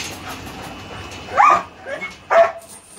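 A big red dog lets out two loud, close barks about a second apart over a quiet background murmur.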